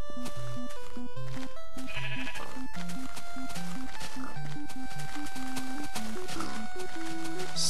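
Sheep bleat repeatedly in Minecraft, a loud, steady run of short bleats close by layered over one another with tonal game sounds, no talk.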